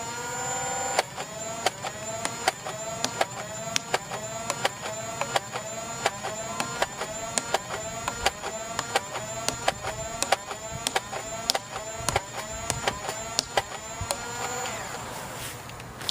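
A foam dart blaster fires Ray Squad darts at a target about 30 feet away in a long, steady run of sharp mechanical shots, each one a crisp clack, evenly spaced and close.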